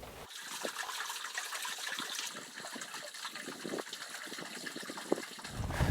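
A hose fed from a hydrant fills a stock water tank in sub-zero weather, giving a steady, close gushing and splashing of water that runs throughout with no talking, with a rising rumble near the end.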